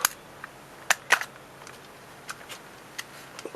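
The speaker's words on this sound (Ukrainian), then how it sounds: "Батарейку поки що виймемо." Battery being pulled out of a radio-controlled toy spider during repair: a handful of sharp, close plastic clicks and snaps spread irregularly over a few seconds, with quiet pauses between them and no talking.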